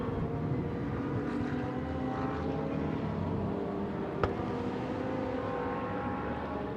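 A McLaren GT race car drones past during qualifying at a GT Asia event, its engine a steady broad roar heard at some distance with a brief sharp click midway.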